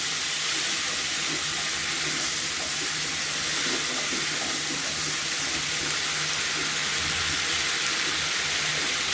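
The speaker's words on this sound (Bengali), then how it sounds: "এটা একটু ভাজা ভাজা হোক" Pui metuli, the stems of Malabar spinach, frying with shrimp in a pan, giving a steady, close, loud hissing sizzle that runs without a break and with no talking.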